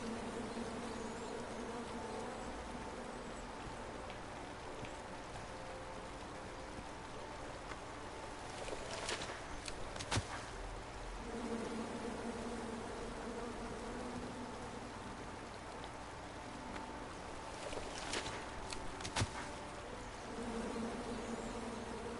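Angry bees buzz in a King's Quest game, a continuous droning hum from a swarm with a few sharper passes standing out, steady and moderately quiet throughout.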